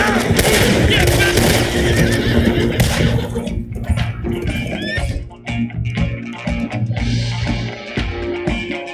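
Horses neigh and whinny in a video game amid dense game-like noise, with thudding bursts and shuffling movement throughout; loud and busy, with a calmer stretch later.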